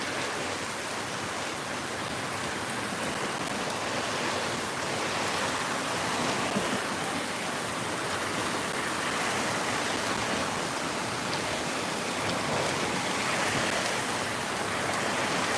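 Heavy storm rain in Misamis Occidental pours down as a dense, steady broadband hiss that holds at the same level throughout, with no talking.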